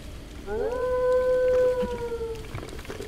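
A dog in the video game The Legend of Zelda: Breath of the Wild gives a single drawn-out, tonal whine or howl that holds steady and then fades, heard clearly over faint rain-like background ambience.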